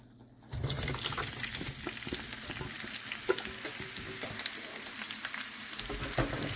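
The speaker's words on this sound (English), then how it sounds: "we've got another big tablespoon of ghee in our pan, and I'm going to add my onions and tomatoes to it" Onions and tomatoes sizzle steadily in hot ghee in a pan, a loud constant frying hiss starting abruptly after half a second as they hit the fat, with occasional light clinks of a utensil.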